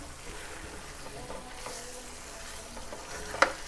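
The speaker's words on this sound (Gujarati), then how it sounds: "તો મેં અહીંયા 1/4 કપ તેલ લીધું છે, એ એડ કરીશું. મિક્સ કરી લઈશું." Brinjal, potato and tomato vegetables being stirred in a pan with added oil, a soft steady sizzle with wet stirring scrapes and one sharp clink of the spoon near the end.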